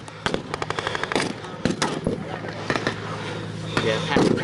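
Machine-gun bursts and rifle shots crack at a WWII reenactment battle in Ohio, sharp and irregular, with voices shouting and talking among the firing.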